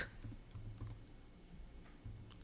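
Soft clicks of typing on a computer keyboard in a quiet room while entering a spreadsheet formula, a short burst of keystrokes, a pause, then a few more near the end.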